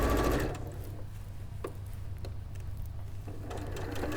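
A domestic sewing machine stitches a seam on fabric for Christmas storage boxes with a quiet, steady mechanical whir, close and on its own with no talking.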